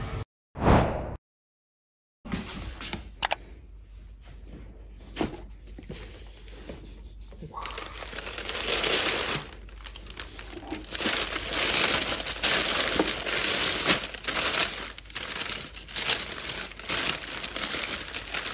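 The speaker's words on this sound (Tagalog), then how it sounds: "Iko-cover ko na lang ng foil." Aluminium foil crinkles and crumples as it is pressed over a tray of lasagna ready for baking. The crackling rustle is close, comes in irregular bursts, and goes on for several seconds after a short silent gap.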